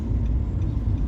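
A car's engine hums steadily and close by as it drives through the Las Marinas district of Denia toward the beach, a continuous low rumble with faint ticking and no talking.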